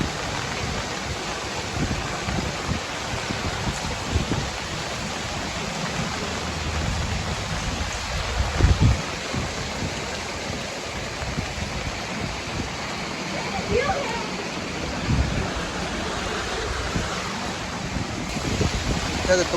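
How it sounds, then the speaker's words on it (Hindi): Downpour and rushing floodwater fill a street in Dadyal, Azad Kashmir, a broad steady roar of rain and flowing water, with faint voices at points and a brief louder splash near the middle. "इतनी तेज़ बारिश हुई है, पानी पानी"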